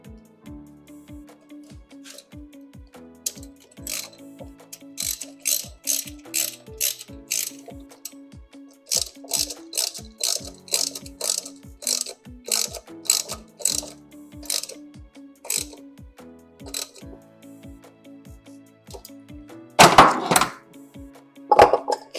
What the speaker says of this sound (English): Then go ahead and tighten the clamp first.